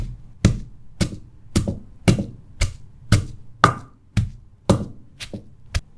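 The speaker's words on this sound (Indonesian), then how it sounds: "Setelah semua bahan disangrai dan sudah matang, sampai sedikit menghitam, kemudian ditumbuk halus." Roasted, slightly blackened herbal jamu ingredients are pounded until fine, with a dozen sharp, close thuds falling at an irregular but steady pace.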